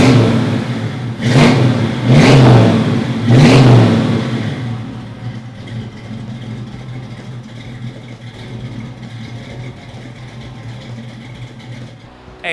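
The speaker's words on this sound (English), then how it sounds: "Let me fire it up for you so you can hear it" A 1968 Ford Shelby Mustang GT350 V8 cranks and catches, blips through three sharp revs in quick succession, then settles into a steady, burbling idle that continues to the end.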